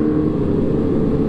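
A BMW 1000cc motorcycle engine gives a loud, close, continuous low rumble that holds steady throughout.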